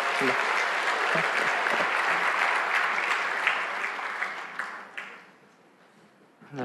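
A church congregation at a Sunday worship service breaks into loud, sustained applause, a dense wash of clapping that holds steady for several seconds before thinning out and fading near the end.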